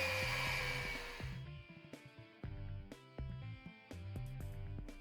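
A Yonanas soft-serve maker whirs as it churns frozen chocolate coconut balls and cubes into soft serve. The loud motor noise runs for about a second and a half, then cuts off, leaving background music.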